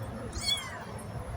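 A single short, high, thin meow from a newborn kitten, faint and brief over a low background hum.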